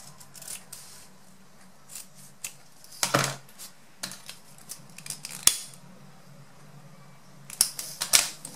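Scissors cutting a ribbon strip for a handmade hair bow, a few crisp close snips spaced apart with light rustling and handling of the ribbon between them, no one talking.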